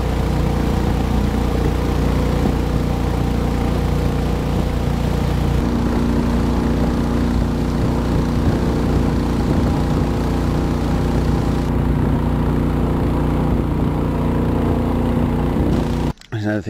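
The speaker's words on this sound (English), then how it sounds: "which is a bumpy boat with a loud motor" Loud outboard-style motor of a bumpy riverboat on an eight-hour ride in the Amazon, droning steadily and close with a constant low rumble that cuts off abruptly at the end.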